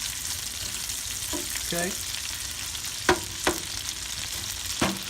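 Chicken pieces frying in a pan sizzle with a steady hiss while being broken up, sharp clicks and scrapes of a utensil against the pan popping out at intervals, and a brief spoken word near the start.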